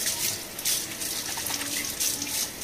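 Water sprinkled and splashed onto a greasy kitchen chimney filter, a loud, continuous running and spattering wash like a tap over a sink, no talking.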